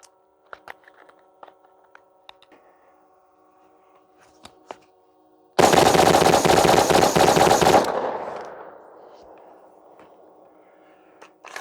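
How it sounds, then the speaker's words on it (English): A 300 Blackout rifle empties its magazine in one rapid, loud burst of about two seconds, then the blasts ring out and fade, with a few light clicks of handling beforehand outdoors. "So let's do a mag dump."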